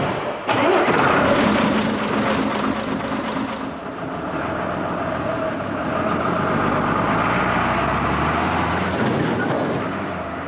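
A lorry driving at night north on the M6 motorway toward Manchester, a loud, rumbling engine and road roar with a sharp onset, then a continuous, broad drone that holds steady throughout.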